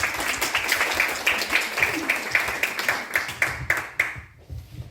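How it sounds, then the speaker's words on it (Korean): Audience applause at a Korean-language speech contest in Moscow, brisk and fairly rhythmic clapping from a crowd that tapers off and fades out after about four seconds. "큰 박수로 맞이해 주세요."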